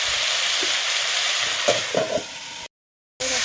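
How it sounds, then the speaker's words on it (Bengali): Potatoes fry in a pan for aloo posto, a steady sizzle with a few scraping stirs of the spatula before a brief cut and the hiss resumes. "এটাও আমি ভালোভাবে নাড়াচাড়া করে ভেজে নেবো।"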